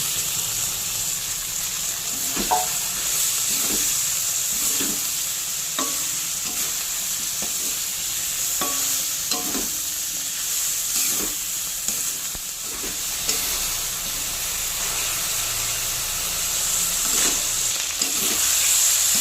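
Fried okra and potatoes being stirred into a spice masala in a pan, Bangladeshi dhaba-style cooking: a steady sizzle and hiss of frying runs throughout, punctuated by repeated scraping stirs of a spoon at irregular intervals, close and moderately loud, with no talking.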